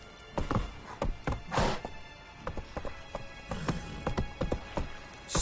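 Roach, Geralt's horse in The Witcher 3, gallops with heavy, close hoof thuds in an uneven driving rhythm, about a dozen strong strikes with breathy snorts between, no speech.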